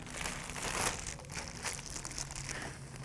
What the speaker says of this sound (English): We'll put it in a plastic sandwich bag and let the color set up.